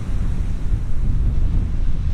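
Strong wind roars across the microphone on the Cliffs of Moher in Ireland, a loud, steady low rumble with the sea's surge beneath it and no voices.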